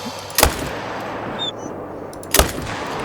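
Two loud, sharp Arzina 300 rifle shots ring out about two seconds apart while hunting crocodiles in the game Call of the Wild, each crack followed by a short decaying tail over quiet outdoor ambience.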